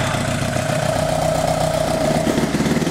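A Kawasaki Ninja sport bike engine idles unevenly with one cylinder misfiring, a steady close mechanical hum with an irregular pulsing throb throughout, no voices.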